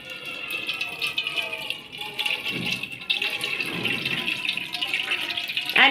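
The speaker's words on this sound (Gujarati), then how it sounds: "એના પછી આપણે એને છૂટ પાણીએ ધોશું. આ રીતે ઠંડુ પાણી લેવાનું" Food being rinsed in plenty of normal-temperature tap water while noodles are being made at home, a steady running splash with some rattling, near and fairly loud, with no talking.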